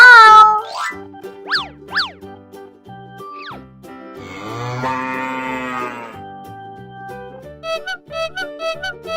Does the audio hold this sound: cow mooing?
yes